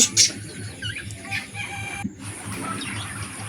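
Chickens at a poultry farm cluck and call in a steady low chatter, with a few louder squawks and brief crowing-like cries rising above the flock.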